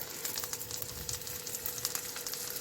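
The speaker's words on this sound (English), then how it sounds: "now we're going to add our patties, seasoned side down" Impossible Burger patties sizzle and fry in a pan with butter and olive oil, a steady close crackling hiss with scattered pops throughout, no voices.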